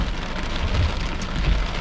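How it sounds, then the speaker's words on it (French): Heavy rain pours steadily on a surface during a thunderstorm chase, a dense continuous roar with no thunder or voices, close and fairly loud throughout. "Là-dedans, encore une fois, là, la forte pluie."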